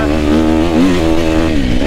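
Gas Gas 250F four-stroke motocross bike engine revving loud and close, a steady high buzzing whine with pitch rising and falling slightly through the revs, no talk over it.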